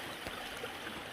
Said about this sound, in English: excuse me while I cross this little creek